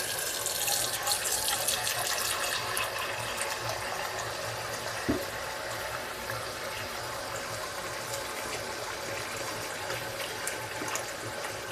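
Tap water pours steadily into a pot, a continuous close splashing hiss with no pauses.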